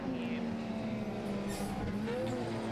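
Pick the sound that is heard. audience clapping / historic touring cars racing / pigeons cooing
historic touring cars racing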